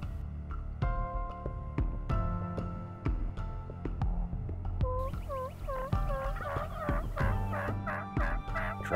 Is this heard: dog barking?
no